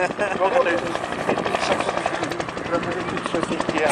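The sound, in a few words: helicopter flying at an airshow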